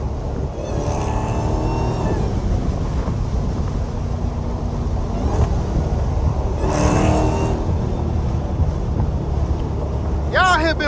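A straight-piped Dodge Hellcat on the freeway, its exhaust droning low and loud from inside the car with rising and falling tones, heavy wind roar, and people talking over it.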